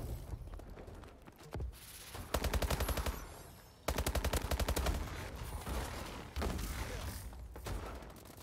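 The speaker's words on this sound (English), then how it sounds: "I hear gunshots somewhere." Bursts of rapid submachine gun fire from a video game, sharp repeated shots in long volleys with short pauses between, loud and fairly close.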